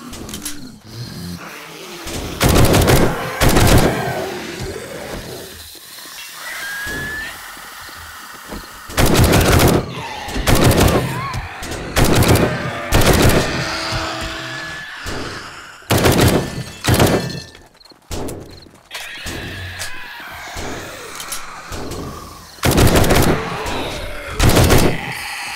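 Gunfire in the zombie-survival game 7 Days To Die, shots fired through side railings: loud, sharp reports in short clusters of one to three, separated by quieter gaps of ambient game noise.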